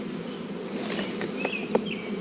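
Bees buzzing around a fallen hive, a dense continuous hum with a few individual insects zipping close past the microphone, no talking.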